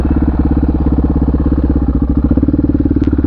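A Honda XR650R set up as a supermoto thumps along steadily and loudly close by, its single-cylinder firing pulses even and continuous with no talk over it.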